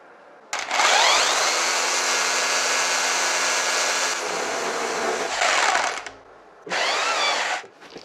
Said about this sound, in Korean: 이렇게 한마드릴을 사용해서 구멍을 냈고요